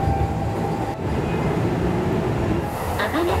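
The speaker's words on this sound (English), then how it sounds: "Seems like this train is more crowded, but still there are empty seats inside." Inside a moving commuter train bound for Kobe, a steady loud rumble and rattle of the carriage fills the space, with brief tonal chimes and faint voices near the end.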